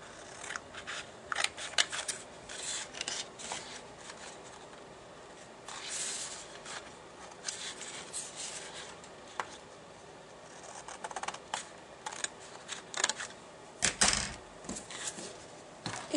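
Scissors snip through green card paper in a long run of short, quiet crisp cuts, irregularly spaced with small pauses, close up with no talking, while a card is trimmed for a baby birth announcement.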